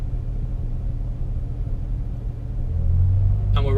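A Ferrari F12 TDF's engine gives a deep, steady low rumble that swells as the car pulls away, ending in a brief rise near the end.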